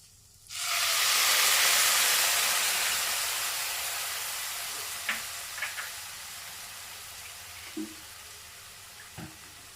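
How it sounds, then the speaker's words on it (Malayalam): Okra curry with tamarind cooks in a pan. A sudden loud hiss bursts up, then eases into a steady bubbling simmer, close by, with a few small utensil clicks and no speech. "ഇനി ഒന്ന് തിളച്ചു വരട്ടെ കറി ഇവിടെ തിളച്ചു വന്നിട്ടുണ്ട്"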